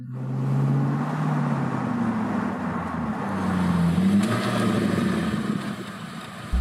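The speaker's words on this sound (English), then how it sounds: "Please meet the all-new Panoz Roadster. It doesn't sound very pleasant, but you'll have to get used to it." A Panoz Roadster sports car drives steadily, its engine a continuous, fairly loud low drone that rises and falls slightly in pitch with throttle, heard close and alone without talk.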